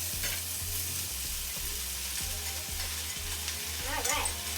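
Chopped spinach sautéing in a pan, giving a steady close sizzle with soft stirring scrapes and a low background hum.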